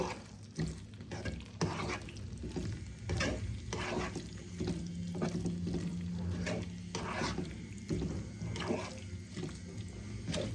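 Mixed vegetables with a little sugar are stirred in a pan, giving steady scraping and shuffling over a soft continuous sizzle, close and moderately quiet, with no talking.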